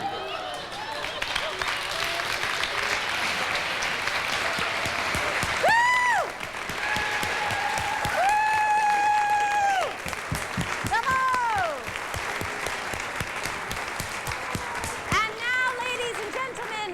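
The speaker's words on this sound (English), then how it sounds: "Another warm round of applause for Miss Stacey Reid and Paul Matheson." Audience applause at a girls' night out show, sustained clapping throughout, with whoops and vocal cheers rising above it at several points.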